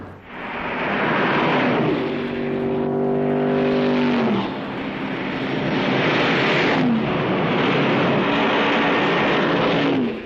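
A 1966 six-cylinder production car engine runs and revs, a loud steady roar that climbs in pitch, drops back around four seconds, then builds again and holds near before fading at the end.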